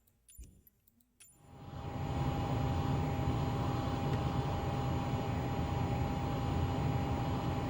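Twin jet engines of a Learjet 35A in a flight simulator spooling up as the throttles are pushed forward, a broad steady roar with a faint whine that builds after a few soft clicks and then holds loud and constant.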